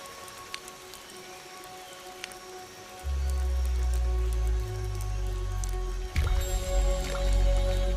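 Rain pattering on leaves in a forest, with scattered close drips at first, then a heavy, steady downpour roaring in and persisting, with a few louder splashes near the end.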